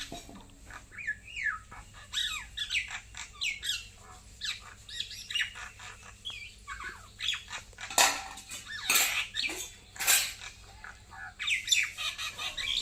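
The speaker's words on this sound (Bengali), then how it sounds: "ওই দেখো একটা শালিক রান্নাঘরের চালে কেমন করছে" A myna bird squawks from a village kitchen roof in a series of faint, scattered harsh calls and chatters, with a few light clinks nearby and no talking.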